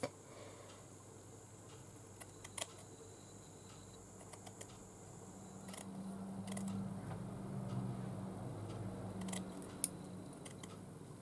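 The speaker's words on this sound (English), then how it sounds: "I don't need both ruffles, so I'm going to trim one off" Scissors trim a fabric ruffle from a pin cushion in a handful of faint, sparse snips and ticks, close but quiet, against a low steady background with no talking.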